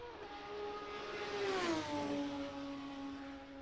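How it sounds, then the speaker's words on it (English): Formula 3 racing car engine in a video game at Silverstone, a steady high whine that sweeps down as it shifts, then holds a sustained drone, fairly loud and alone. "as you can hear that engine"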